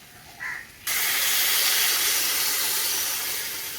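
Water poured into a pan of red-fried taro stems bursts into a loud, steady hiss that starts abruptly after a brief softer sizzle and holds evenly to the end.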